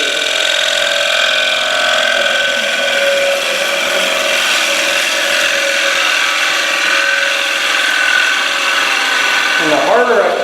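Woodturning tool cutting wood on a lathe, a steady loud scraping whir with a sustained ringing tone that holds throughout, briefly shifting near the end.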